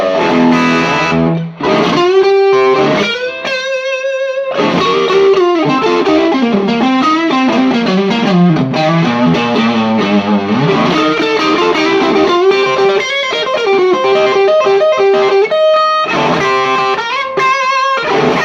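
Electric guitar played through a modded Fender Blues Junior amp with the drive fully up and level at middle, loud sustained distorted chords and melodic lines ringing continuously with no pauses.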